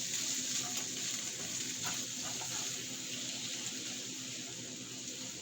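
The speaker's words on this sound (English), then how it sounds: "Just gonna allow it to saute over medium-high heat." Shrimp sautéing over medium-high heat in a pan with garlic butter and Sprite, a continuous close bubbling sizzle with a hissing, watery edge, steady and without talk.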